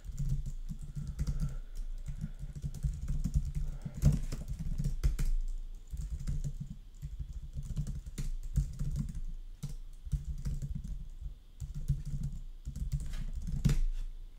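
Steady computer keyboard typing while writing code, a continuous run of close, crisp keystrokes with brief pauses, no talking.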